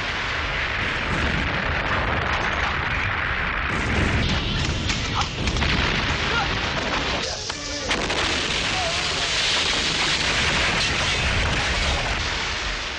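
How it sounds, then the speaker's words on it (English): Huge pyrotechnic explosion demolishing a specially built Hong Kong factory with tons of explosives for a Jackie Chan film finale: a loud, sustained roaring blast and rumble with crackling debris, continuous for many seconds, with speech mixed in. "demolishing a specially constructed Hong Kong factory using tons of explosives"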